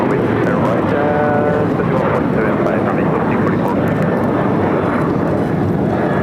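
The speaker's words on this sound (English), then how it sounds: "This is American Airlines 1899 taking off to Indianapolis on the 737-800." An American Airlines Boeing 737-800 taking off from LAX, a loud, steady jet roar that holds at full strength throughout, with people talking over it.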